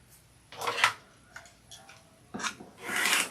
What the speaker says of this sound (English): And then I gotta cut a little bit of this off.